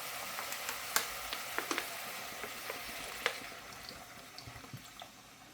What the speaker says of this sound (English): Now what we're going to do is we're going to add our water.